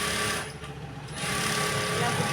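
A sewing machine stitching a blouse hem, a close, steady mechanical whir that dips briefly and resumes, with someone speaking over it.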